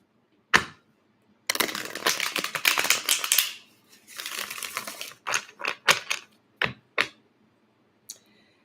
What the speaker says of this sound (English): gonna shuffle these again really quick.